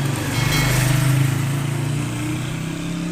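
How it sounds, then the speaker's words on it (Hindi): Motorbikes and other vehicles in the village inside Rohtas Fort near Jhelum, Pakistan, a steady engine drone close by that swells and then eases, with no speech over it. "अब यहाँ आपको ये गाड़ियाँ, बाइक सारा कुछ नज़र आएगा।"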